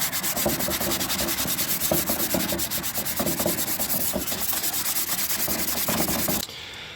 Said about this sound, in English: I'm gonna scuff it up a little bit with some 200 grit sandpaper.